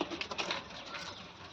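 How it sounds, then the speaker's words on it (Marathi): Pigeons sitting on eggs in a box give soft, low cooing, close by and fairly quiet, with faint fluttering and no talk over it. "हे आपले आहेत कबूतर"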